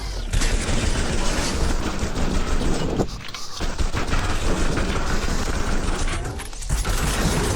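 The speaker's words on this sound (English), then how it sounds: "I'm going to practically try and lay out as many shots as I can" Rapid automatic gunfire from shooting enemies in the VR shooter Raw Data, a dense, loud, continuous burst of shots with brief pauses for reloads near the middle and end, no talking.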